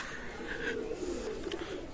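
Imported Oman Teddy pigeons give a few short, throaty coos over a low, constant background hum, fairly close and moderately loud.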